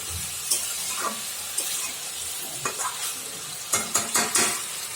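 Chicken cooked with tamarind is sautéed in a pan, with a constant sizzle and repeated sharp scrapes and clinks of a spatula stirring against the metal, louder in a cluster toward the end.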